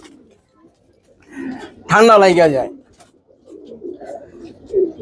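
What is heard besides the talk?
pigeons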